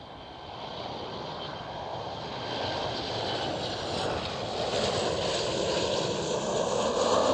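A KLM Boeing 737 airliner at Amsterdam Schiphol airport gives a steady, loud jet engine roar that swells gradually over several seconds, filling the air as the aircraft passes close by.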